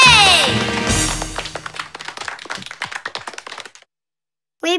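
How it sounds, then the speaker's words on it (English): Scattered clapping rises in a cartoon crowd in Cry Babies, a series of sharp individual claps that thin out before a short silence, following a brief stretch of voices and sounds at the start. "Please applaud the Valley Baby"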